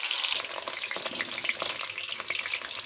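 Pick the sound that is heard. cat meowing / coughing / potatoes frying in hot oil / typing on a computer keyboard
potatoes frying in hot oil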